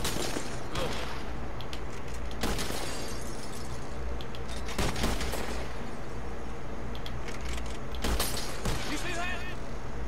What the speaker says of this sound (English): As soon as you pull your weapon and aim, we let fly.